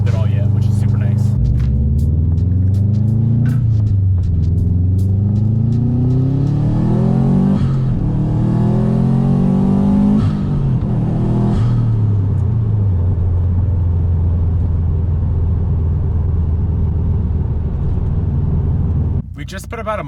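A Subaru STI with freshly raised suspension and a working DCCD system drives close by, its engine rumbling steadily with rising and falling revs as it accelerates, under continuous talk.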